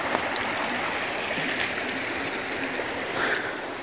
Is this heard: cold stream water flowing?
yes